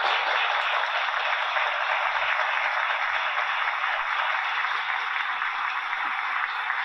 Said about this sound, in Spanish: Un aplauso para Germán.